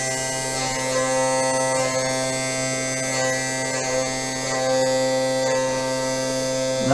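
A Sainsmart Genmitsu 4040 Pro CNC machine cuts a pin, giving a steady, continuous high-pitched motor whine with strong tonal hum that runs unbroken, fairly loud and close, with no talking.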